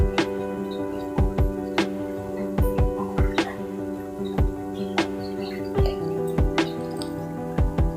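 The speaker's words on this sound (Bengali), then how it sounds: "এ পর্যায়ে ম্যারিনেট করে রাখা মশলাগুলো দিয়ে দিব এবং নেড়েচেড়ে ভেজে নিব।" Marinated spices and onions are stirred and fried in a pot for Hilsa pulao, giving soft, wet squelching strokes and light utensil clinks at an irregular, unhurried rhythm, close and fairly quiet, with no talking.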